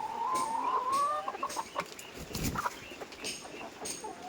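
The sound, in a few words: layer hens clucking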